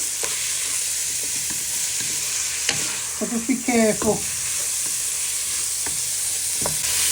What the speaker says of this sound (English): we're just frying our pork mince for a few minutes to get colour on them